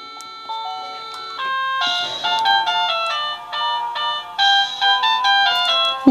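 A Simplit T10 wireless kinetic doorbell plays a bright electronic chime melody, a run of clear, steady tones that starts softly and grows fuller, sounding alone and close with no talking.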